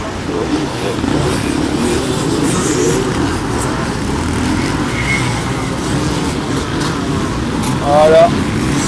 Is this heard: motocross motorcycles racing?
yes